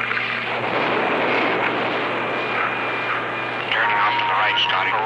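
An X-15 rocket plane drops for launch on a 1960 US Air Force mission and its rocket engine starts: a loud, steady, close roar with a constant low hum throughout, and radio voices faintly audible beneath the noise near the end.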